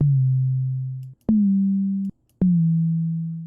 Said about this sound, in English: let's look at this sine wave here, or this test tone sound here really quick